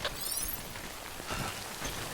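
Rain in the video game Death Stranding patters softly and steadily, a faint close hiss of drops with a few slightly louder splashes.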